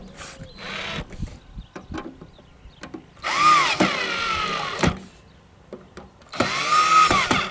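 A power tool briefly drives screws into a plastic RV roof vent cover, with two short whirring bursts separated by quieter clicks and handling noise, close by.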